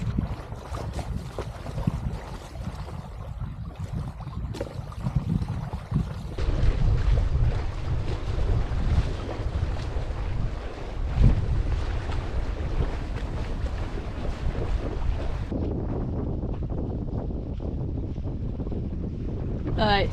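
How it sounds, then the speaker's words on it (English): Sailboat motoring under engine on Scotland's west coast in autumn, a steady low drone throughout with heavy wind buffeting the microphone and water noise, no talk. "as you can hear, we are back on the engine"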